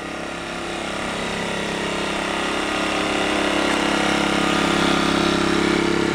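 An Earthquake IG800W 800-watt inverter generator runs outdoors among hard surfaces, its engine a steady, even drone heard from about ten paces away and building slightly louder over the seconds.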